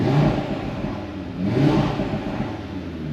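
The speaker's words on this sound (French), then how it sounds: "je vais vous faire écouter donc le son du véhicule" An Audi RS3 8V2 five-cylinder with RS exhaust, valves open in dynamic mode, revs at standstill in two swelling rises, a deep rumbling roar close by and alone.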